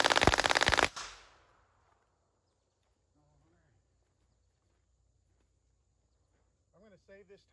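A submachine gun fires a rapid burst at a backyard shooting berm, loud and close, with the last shots decaying into a quiet yard where insects chirp and a voice murmurs faintly.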